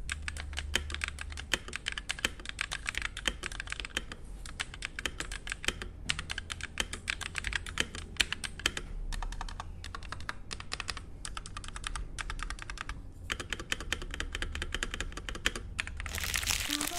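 Fast, continuous clacking of a Rexus Daxa D87 TKL mechanical keyboard with pre-lubed stabilizers, close and crisp, with keystrokes in steady bursts and brief pauses throughout. No one speaks.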